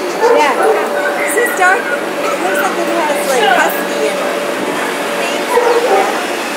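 Dogs in cages barking, yipping and whimpering together in a busy, overlapping chorus, near and loud throughout, with a person talking in places.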